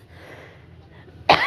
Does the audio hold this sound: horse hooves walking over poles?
no